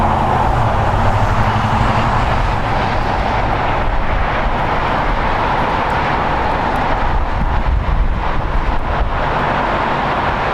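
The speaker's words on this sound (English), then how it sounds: "It is an Airbus A321 that is 9 years old" A nine-year-old United Airbus A321 jet taking off from runway 25 right at LAX, a steady loud broadband engine roar sustained throughout without a break.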